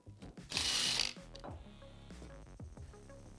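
A ratchet works on bolts that hold a Polaris RZR XP 1000 shock reservoir to the frame, giving a burst of rapid clicking followed by several sharp metallic clinks and taps, fairly close.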